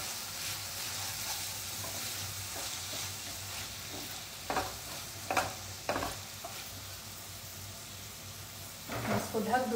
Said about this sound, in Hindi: तो अब हमें इस मसाले को भूनना है।